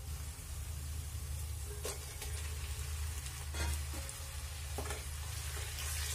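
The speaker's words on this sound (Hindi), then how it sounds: "चिकन को फ्राई कर लेते हैं इस प्याज में।" Chicken pieces and onions fry in a pan over raised heat, giving a steady, close sizzle with occasional stirring scrapes and no talk.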